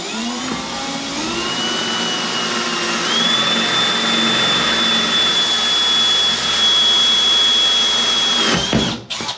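A power drill with a diamond bit boring into a wall, a loud continuous whine that climbs in pitch and then holds steady before cutting out abruptly at the end.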